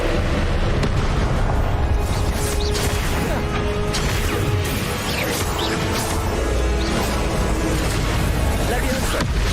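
Spell combat in Hogwarts Legacy, with Confringo blasting spells bursting as explosions among crashes and thuds, a loud, continuous barrage of impacts and booms layered over game noise.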